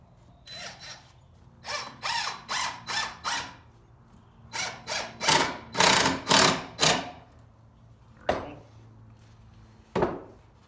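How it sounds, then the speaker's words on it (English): A drill drives a screw into a wooden bucket planter, with several short whirring bursts in stop-start rhythm followed by two brief final pulses. It is close and fairly loud, with no talk. "I think I'll actually just install one of the first screw to hold it in place"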